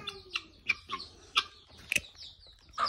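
Young chicks pecking at scattered grain, giving a run of short, soft clucks and peeps spaced irregularly over low background noise, fairly close, with no talking.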